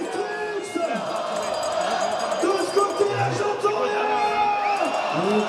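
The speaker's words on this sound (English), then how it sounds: "Listen to the crowd out here" A large crowd cheers at the FISE Montpellier BMX spine ramp final, a sustained roar of whoops, yells and shouts rising and falling from many voices at once.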